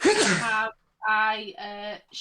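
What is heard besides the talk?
sneeze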